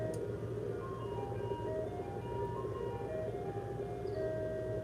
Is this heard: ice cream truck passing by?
yes